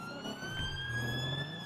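A synthetic-sounding video game police car siren in GTA wails steadily at a moderate distance over a low engine rumble, with no voices.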